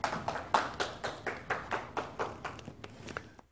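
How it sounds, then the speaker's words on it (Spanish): A few people clap in a steady, evenly spaced rhythm that thins out and fades toward the end; sparse applause at moderate distance. "Un aplauso para el ganador de la primera ronda, el señor Fleming."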